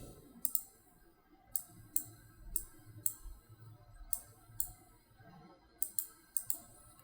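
Mouse clicks during Cinema 4D house-modeling work on a computer, a series of crisp, close, quiet clicks spaced irregularly, some in quick double pairs, over faint room hum with no talking.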